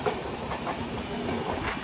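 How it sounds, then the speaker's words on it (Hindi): Bihar Sampark Kranti superfast express train rushing past at high speed, loud continuous rumble with rhythmic clickety-clack of wheels on rails, close by. "हाई स्पीड से ट्रेन आ रहा है"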